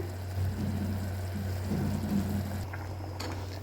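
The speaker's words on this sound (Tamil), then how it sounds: "பார்த்தீங்கன்னா குருமா நல்லா கொதிக்க ஆரம்பிச்சிருச்சுங்க." A pot of coconut-paste kurma curry simmers at a steady low bubble, a soft continuous burble with a faint hum underneath and no talking.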